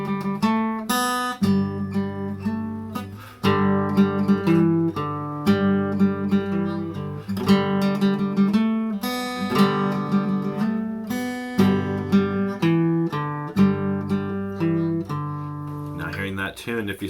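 Acoustic guitar playing the children's song Charlie Over the Ocean in G: a steady run of strummed and plucked chords with a clear rhythm, fairly close, ending in a brief noisy scrape.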